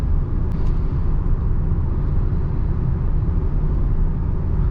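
Cabin drone of a 2025 Maruti Ertiga CNG seven-seater cruising on the road, a steady low engine and tyre rumble filling the whole stretch with no voices.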